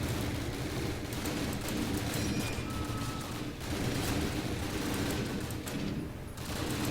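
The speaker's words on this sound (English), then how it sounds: "I'm supposed to be providing covering fire." Sustained, dense gunfire from a Call of Duty video game, a continuous loud barrage of overlapping shots and bursts with no pauses, filling the whole stretch on its own.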